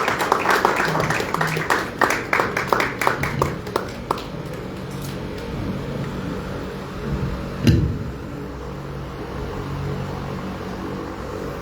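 Congregation of the Redeemed Christian Church of God Power Prevail parish in Rawang, Malaysia applauding to welcome a pastor, a burst of dense clapping over the first four seconds that thins out and fades into room noise, with one brief thump later.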